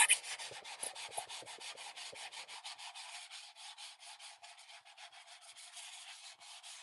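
Steady rubbing and scrubbing while cleaning up a car trunk, a close, continuous series of quick wiping strokes with no talking.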